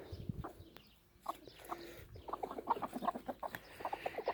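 Chickens cluck in quick, choppy bursts, several birds close by, the clucking growing busier and more continuous toward the end.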